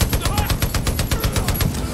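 Rapid automatic gunfire in the shooter game Far Cry New Dawn, a loud, close, unbroken stream of evenly spaced shots lasting the whole moment.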